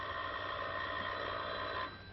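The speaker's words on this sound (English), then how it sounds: "Someone's on the phone." An old 1940s telephone ringing with a continuous bright electric bell trill, somewhat muffled and steady, cutting off near the end with no speech.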